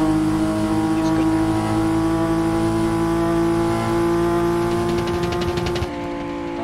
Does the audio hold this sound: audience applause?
no